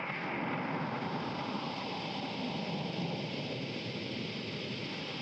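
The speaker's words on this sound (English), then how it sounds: "This is a preset on the GR55 that literally just sounds like a thunderstorm." A synthesizer thunderstorm preset on a Roland GR-55: a dense, continuous roar of rushing noise like heavy rain and wind in a storm, steady and fairly loud throughout with deep low rumbling underneath.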